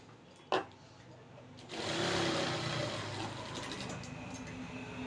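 A sewing machine stitching blouse fabric, running steadily and faintly for several seconds after a single sharp click, with a quiet mechanical whir.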